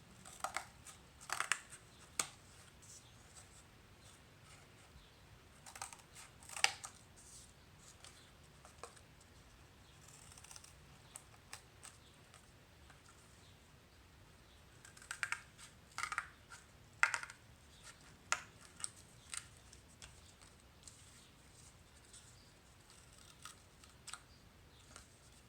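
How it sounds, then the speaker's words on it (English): Scissors cutting along drawn lines on paper in an arts and crafts project, with scattered crisp snips in short clusters, quiet between cuts and fairly close. "I can take my scissors and start cutting along those lines."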